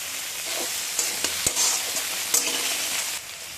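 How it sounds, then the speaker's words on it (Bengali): Fish, a Bengali-style dish with bata fish, frying in a pan with oil, a steady hiss of sizzling broken by a few sharp crackles and pops, close and continuous with no talking. "মাছটা ভাজা হচ্ছে, এইভাবে মাছটা ভেজে নিতে হবে"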